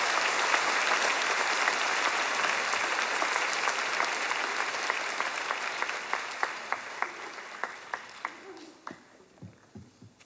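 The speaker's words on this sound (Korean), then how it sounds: "박수로 환영하십시다." A church congregation at a Korean autumn special dawn revival service applauds in welcome of a visiting pastor from Vancouver: dense, sustained clapping that gradually thins into scattered individual claps before fading out.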